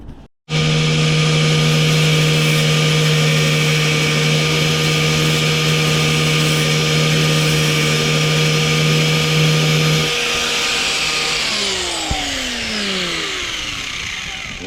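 A power grinder screams loud and close against the plastic hull of a Hobie kayak, starting abruptly, holding a steady high whine for about ten seconds, then winding down as it spins to a stop.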